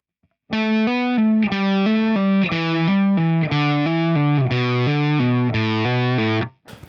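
A heavily distorted stoner-rock electric guitar plays a slow descending pentatonic melody, one sustained note after another with clear harmonics, loud and alone, ending with a brief cut-off.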